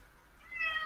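A cat meows once indoors, a short rising, whining call that swells toward the end and stands out clearly over a quiet room.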